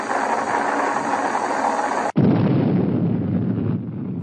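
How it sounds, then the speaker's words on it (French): Atomic test explosions at Yucca Flat, Nevada, heard as a loud, continuous roaring rumble that cuts off abruptly and gives way to another sustained, thunderous roar. "The sandy wastes at Yucca Flat, Nevada, a new series of atomic explosions are set off."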